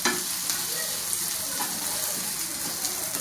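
Kodua fish fries golden in a pan of oil, giving a close, continuous crackling sizzle with small pops and no talk.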